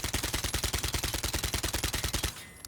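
Rapid automatic gunfire from a weapon in Call of Duty: Modern Warfare, a loud, steady stream of evenly spaced shots fired without recoil control that cuts off near the end, leaving a brief quiet tail.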